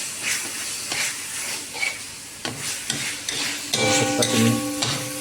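Onion paste sautéing in a kadhai for restaurant-style paneer lababdar, a steady close sizzle and hiss with stirring scrapes, a brief spoken phrase, and a louder burst of frying near the end.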